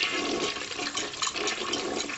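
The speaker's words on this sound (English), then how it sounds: "her home didn't have a toilet that flushed for no reason" A household toilet flushing, a single rushing swirl of water heard up close and alone.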